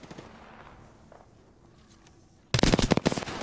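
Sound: gunfire in Apex Legends video game

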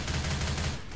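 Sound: Uzi submachine gun firing in video game

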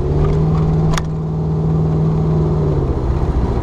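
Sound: 1970 Plymouth Barracuda 440 V8 engine, four-barrel carburetor opening

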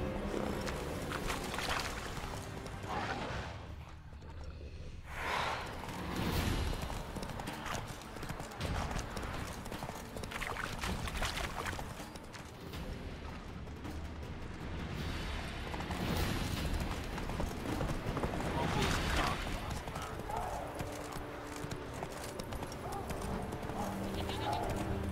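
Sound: horse hoofbeats while riding in The Witcher 3 video game

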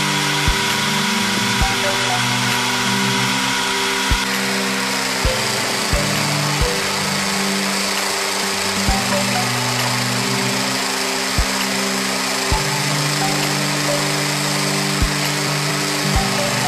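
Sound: drill-powered pipe rust stripping machine

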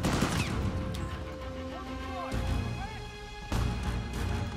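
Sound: gunfire in video game Uncharted 4

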